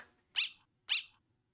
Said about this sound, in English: Like, oh, it's a tiny dog.